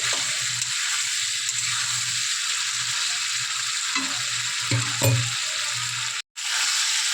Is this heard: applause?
no